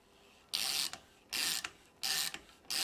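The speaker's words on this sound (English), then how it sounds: "I will use our 3/8 ratchet and the push pin tool here to remove the damper top cap from the damper body" A 3/8 ratchet clicks in four rapid bursts, loosening a damper top cap from a mountain bike damper body held in a vise, with brief pauses between the crisp, close ratcheting runs.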